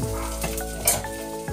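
Ginger sizzles steadily in a hot pan while a utensil stirs and scrapes through it, with a brief louder clatter near the middle; close and continuous with no talking.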